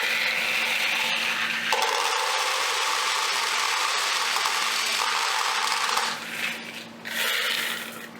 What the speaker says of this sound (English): you'll want to put about 400 balls into the machine.